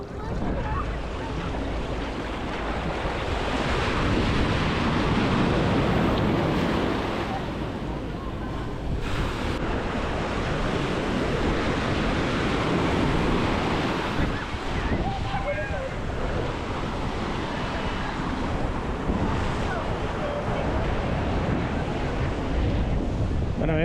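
Caribbean sea waves at the beach in Playa del Carmen, a constant close roar of surf and breaking water with wind buffeting the microphone, loud and continuous for the whole stretch.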